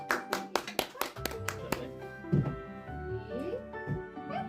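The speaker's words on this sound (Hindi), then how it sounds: "क्लैप करो।" A family claps after singing a birthday song, a run of sharp hand claps that thins into scattered claps while people chatter and talk over it.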